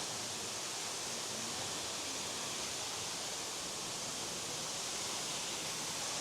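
South Falls in Oregon pours down in front of the listener standing behind the curtain of water, a constant loud hiss and roar that never lets up.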